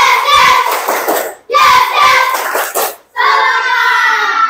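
A class of students in an Islamic religious education lesson stands and performs a rhythmic spirit clap, sharp clap bursts mixed with loud group chanting in a classroom, with two brief pauses.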